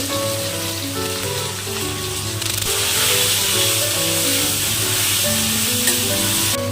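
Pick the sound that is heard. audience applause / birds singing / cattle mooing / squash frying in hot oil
squash frying in hot oil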